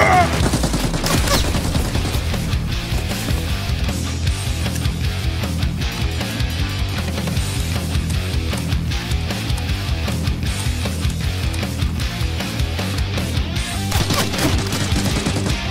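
Sustained close gunfire from an MP5 and a shotgun in the shooter game Escape from Tarkov, dense rapid shots and bursts running loud and steady throughout.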